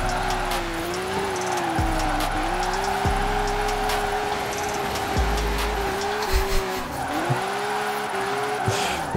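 Chevrolet Silverado 1500 drifting in Forza Horizon 4, its engine droning steadily while tires squeal and skid in long, wavering sustained screeches, with occasional thumps underneath.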